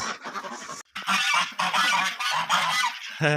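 Geese honk loudly and almost continuously on a snowy farm in cold winter weather, a dense overlapping chorus with one short gap and no talk.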